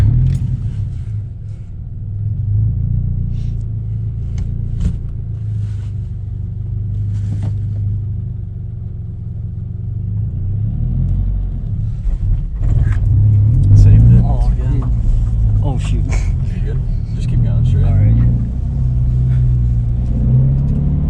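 A manual Scion FR-S engine rumbling low inside the cabin, building as the car pulls away and accelerates, with people talking over it throughout.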